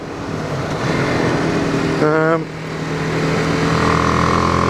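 A BMW G310R single-cylinder motorcycle engine drones continuously up close, with a brief rising rev partway through, while someone talks over it.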